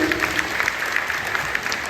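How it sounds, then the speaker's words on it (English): Graduation-day audience clapping for secondary students, a brisk burst of many hands at a steady, fairly loud level with no voices over it. "Can we all clap for our secondary students?"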